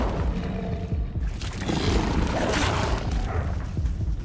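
Incendio fire spell cast in Hogwarts Legacy, a dense roaring whoosh of flame mixed with booming game effects, loud and continuous with no speech.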